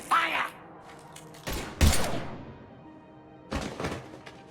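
Sci-fi weapons fire in the action game Mass Effect 3: a few sharp, separate shots and thumps with short gaps between them, fairly close and punchy.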